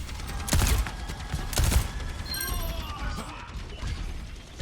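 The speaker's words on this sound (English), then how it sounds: "He got headshot by Cass." Cassidy's gunfire in Overwatch, a few heavy sharp shots and crashes with mechanical clatter, loud against a busy game backdrop.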